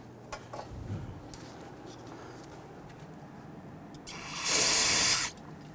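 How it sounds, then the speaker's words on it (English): A short, loud burst of aerosol solvent spray into an ABS sensor port on a Toyota RAV4 hisses for about a second after a quiet stretch of faint background rustling. "Then we'll give that another spray with some solvent"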